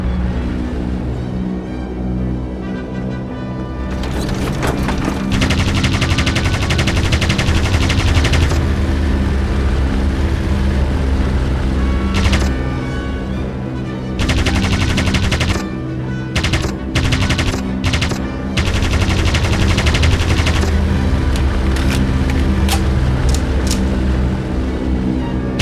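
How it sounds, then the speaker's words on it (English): A Vickers machine gun firing in a WWI aviation video game, heard as loud, close bursts of varying length separated by short pauses, all over a steady droning aircraft engine. "The front, Vickers. Shoot like hell."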